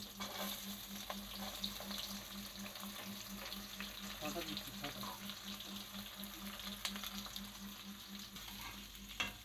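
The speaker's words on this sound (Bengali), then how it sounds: "দেখুন বন্ধুরা, পেঁয়াজ আমি দিয়েছি। এটা ভালো করে আমি ভেজে নেব।" Onions frying in oil for a chicken feet curry, a continuous sizzle with occasional stirring scrapes and light clinks, fairly close and steady throughout.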